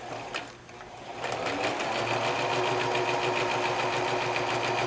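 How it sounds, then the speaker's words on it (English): A sewing machine stitches fabric for half-square triangle quilt blocks, starting after a brief pause and then running steadily and loudly up close without a break. "So I'm going to start sewing."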